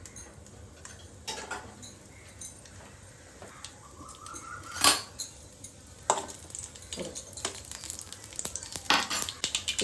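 Mustard and cumin seeds sputtering in hot oil for tempering, scattered sharp pops and crackles over a faint background hiss, with occasional louder bursts.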